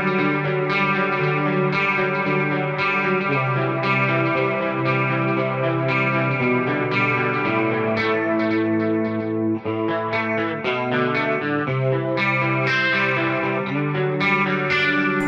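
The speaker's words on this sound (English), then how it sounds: "I do like the delay here. It really fills up the space quite nicely." Electric guitar played through a PRS Archon amp model on a Helix processor, with delay filling the space: sustained chords and notes ringing with echoing repeats and a wide, chorus-like shimmer, continuous and fairly loud.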